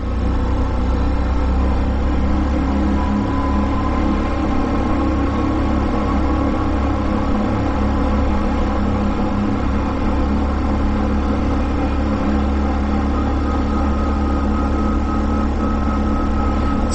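An ATV engine drones steadily and loudly while driving through the Guadalupe Box canyon in New Mexico's high country, a continuous low rumble with no gaps and no voices.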